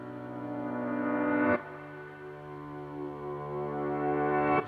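Sustained piano chords with a wavy, processed timbre, one long chord ringing and changing to another at about 1.5 seconds, then a new attack at the very end, with no voices.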